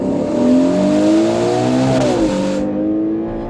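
Ferrari Purosangue engine revving hard under acceleration, a loud, close, rising multi-toned roar that climbs through the gears, dips briefly around a shift, then keeps pulling steadily with no talking.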